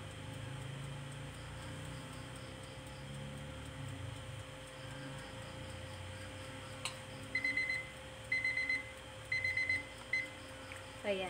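A kitchen oven's timer goes off after a 60-minute bake at 190 degrees, sounding several short bursts of electronic beeps in quick groups over a low steady background hum.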